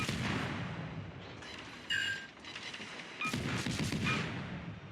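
Naval gun salvos from warships in World of Warships, heavy booming blasts in a few bursts separated by short gaps, loud against a rumbling sea-battle background with no talk.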